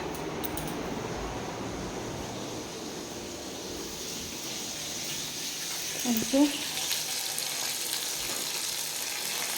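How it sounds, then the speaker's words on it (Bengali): Fish frying in a pan in a home kitchen gives a steady, soft sizzling hiss throughout, with a brief clatter about two-thirds of the way in. "আর আমার এদিকে মাছ ভাজা হচ্ছে।"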